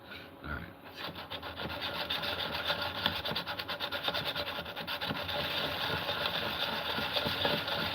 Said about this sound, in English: I always have to clean up that burr on the back side of that blade